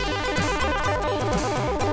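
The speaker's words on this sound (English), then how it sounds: "what you're hearing is a rendition of the Golden Axe theme" Commodore 64 rendition of the Golden Axe theme music, a jazzed-up chiptune arrangement with a steady bouncing bassline and busy synth notes, playing continuously at moderate volume with no voices.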